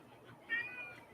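A single short cat meow, soft and nearby, rising briefly over quiet room tone.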